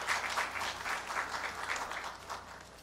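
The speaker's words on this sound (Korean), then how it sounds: "모든 임직원에게 감사와 격려의 박수를 올려드리겠습니다" Audience applause of thanks and encouragement at a 60th anniversary founding ceremony of a Korean church, a steady moderate wash of many hands clapping in a hall, continuous and even for a few seconds.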